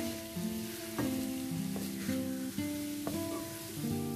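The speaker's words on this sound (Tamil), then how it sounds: "இது வந்து நம்ம இந்த பன்னீரை இந்த எண்ணெயிலேயே லைட்டாக சாட்டே பண்ணிக்கலாம்." Paneer cubes sauté in hot oil with a steady, close sizzle and occasional stirring clicks, while soft tonal music plays underneath.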